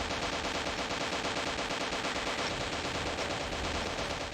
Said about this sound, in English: It did have custom sounds for the guns though,